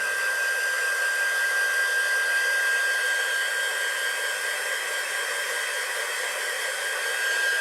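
A hair dryer runs steadily over iced peppermint gingerbread cookies to dry the icing, a constant loud, close whoosh and whine that never changes for several seconds.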